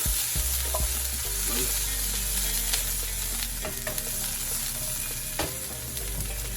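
Grated tomatoes fry in olive oil in a pan, giving a steady, close sizzle with scattered sharp spatters and occasional utensil clicks and stirring; there is no speech.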